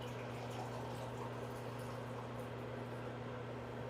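Water pouring from a pitcher or bottle into a cup in a home kitchen, a steady, faint liquid stream under a constant low electrical hum, with no talk.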